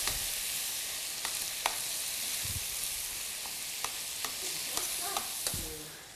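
Peppers, olives and tomatoes seasoned with red pepper flakes and oregano cook in a pan with a steady, close sizzle, punctuated by scattered light clicks and stirring taps.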